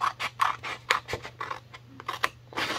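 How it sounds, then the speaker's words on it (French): Scissors snipping through folded card paper on a diagonal for an explosion box card, a quick series of close, crisp cuts with short pauses between strokes. "je vais venir ici couper là et là, et je vais couper en biais de manière à avoir de la matière"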